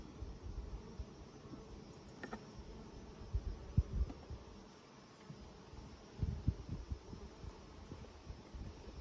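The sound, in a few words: honeybees on a brood frame from a nuc colony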